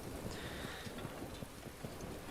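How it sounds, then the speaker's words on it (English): Steady rain in Breath of the Wild, a dense, even hiss of falling water that holds at a constant level for the whole stretch, with no voices over it. "There's the rain."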